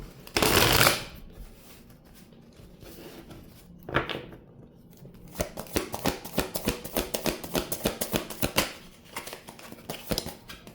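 A deck of tarot cards is shuffled by hand: a loud riffle burst up front, a brief pause, then a long run of quick crisp card flutters and snaps in close, uneven bursts with no talking.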